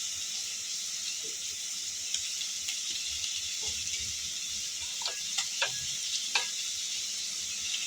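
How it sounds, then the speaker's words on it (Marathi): Onion sautéing in a pan with two spoons of oil, a steady close sizzle throughout with occasional soft clicks of stirring, no voices. "आपला कांदा परतून होतोय"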